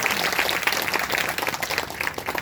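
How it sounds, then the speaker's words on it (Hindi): A church congregation at a Sunday service claps after a prayer, a moderate, steady patter of many hands with some uneven bursts, heard alone without talk. "तालियों के साथ थैंक्स करें"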